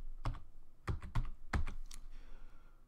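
Keys clack on a computer keyboard while a sprite is named in a GDevelop 5 game-design project, a few quick taps in short bursts, close and fairly loud, with no talking.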